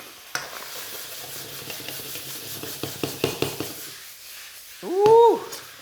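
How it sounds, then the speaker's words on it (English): Chili and pork belly are tossed and stir-fried in a smoking hot wok, with close, steady sizzling, a run of rhythmic scraping and clattering stirs, and a louder metallic scrape near the end. "Right, so smoking hot, your chili's going in over the top there, and I'm going to fold that through."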